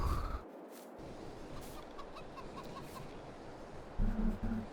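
Chickens in the video game Farming Simulator 22 cluck softly in a few short bursts over a steady background hiss, with a brief louder patch near the end.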